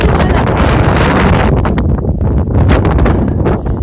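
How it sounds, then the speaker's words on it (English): Strong wind buffets the microphone in loud, continuous gusts, rumbling and roaring with brief dips between blasts. "I'm sorry if it's windy."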